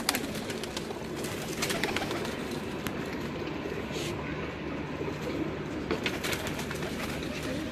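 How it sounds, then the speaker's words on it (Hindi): A flock of Lal Toofan pigeons on a rooftop keeps up continuous overlapping cooing, close and even in level, with soft shuffling and distant background hum beneath. "ये उस्ताद बाऊ ताहिर शरीफ के लाल तूफान कबूतर है जी।"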